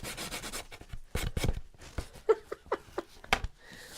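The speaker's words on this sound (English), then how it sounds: "If it's a piece that you're going to leave unframed, make sure you sand those corners and the edges." Sandpaper rubs in short, soft strokes along the corners and edges of a wooden craft piece, close and fairly quiet, with a few light taps and no talk.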